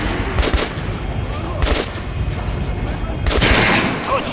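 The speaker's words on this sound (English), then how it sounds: "Try shooting for the center of the regular dummy's chest." Rapid gunfire hits a target dummy in Metro: Last Light Redux, loud and sustained, with sharper bursts of shots at the start, the middle and near the end.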